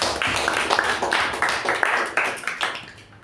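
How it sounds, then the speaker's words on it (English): An audience at a Toastmasters club meeting gives the timer a round of applause: dense, steady clapping from many hands at close range, lasting about three seconds and fading slightly at the end. "A round of applause to our timer Toastmaster."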